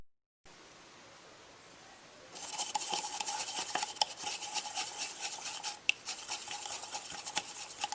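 A vegan breakfast mixture made with coconut milk being stirred in a bowl, a steady scraping and rubbing with irregular clinks of a utensil against the dish, close and fairly quiet.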